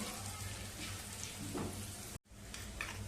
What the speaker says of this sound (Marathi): ठेचून लसूण घालायचा फोडणीमध्ये